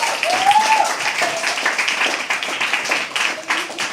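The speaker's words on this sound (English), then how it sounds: "can we please have another applause for her?" An audience claps at a live poetry open mic, a moderately loud patter of hands with some cheering, while a voice carries faintly over it.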